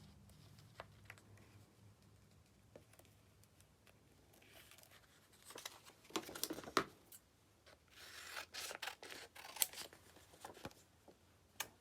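Paper being trimmed with scissors during junk journal decorating, quiet snips and rustles that grow busier and louder in the second half, with no talking.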